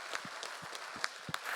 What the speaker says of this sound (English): Another big round of applause for TechBinder